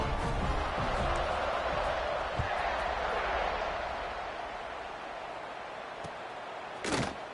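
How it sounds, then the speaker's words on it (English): A large crowd at a college football game buzzes with a steady, distant roar that slowly eases off, with a sharp bang near the end. "this crowd is buzzing after that last score"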